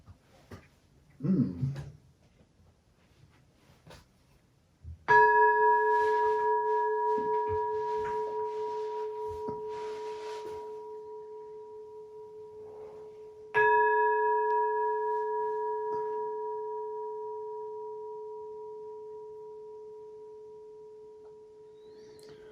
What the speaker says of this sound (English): just the pure sound of the bell